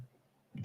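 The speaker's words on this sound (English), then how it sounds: "Does this cough never finish?" A single sharp cough bursts out abruptly at the end after a stretch of silence, loud and close.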